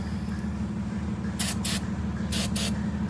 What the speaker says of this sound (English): Give me a little spritz